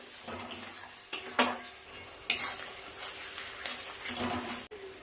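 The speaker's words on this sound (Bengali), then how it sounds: "খুব ভালো করে এখন মশলাটাকে কষাবো যতক্ষণ না তেল ছাড়ে" Spice masala with tomato and ketchup being stir-fried in a pan until the oil separates, soft sizzling under several sharp spatula scrapes and clanks, close and fairly quiet.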